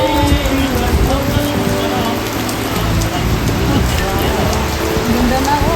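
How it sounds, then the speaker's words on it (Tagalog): Rain falls steadily and heavily on surfaces in Dait, a dense, unbroken patter close by, with no talk. "Maulan po dito sa Dait na naman."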